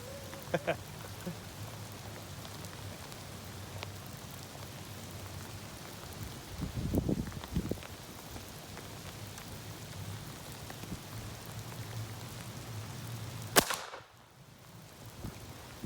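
Steady rain patters and hisses throughout at an outdoor shooting range, with a few heavier splashes midway and a sharp, loud crack near the end.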